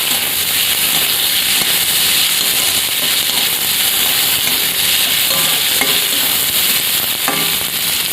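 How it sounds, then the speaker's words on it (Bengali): Chopped onion fries lightly in a pan for a simple chickpea and potato curry, with a steady loud sizzle and occasional scraping stirs throughout. "আর এখানে দেবো কুচানো পেঁয়াজটা, ভেজে নেবো হালকা করে।"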